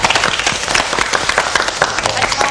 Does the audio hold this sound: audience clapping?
yes